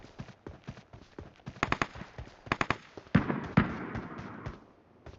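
Bursts of rapid gunfire in PUBG's Metro Royale mode crackle at a moderate distance, short volleys separated by brief pauses, with a few louder blasts in the middle.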